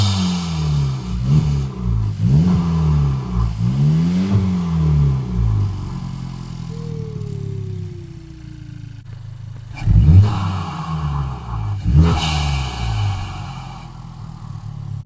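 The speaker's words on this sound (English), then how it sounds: "I'll give you guys a couple revs." A Honda Civic Type R FK8 fitted with a PRL high-volume intake revs repeatedly at close range, several sharp throttle blips rising and falling with short idle gaps between them.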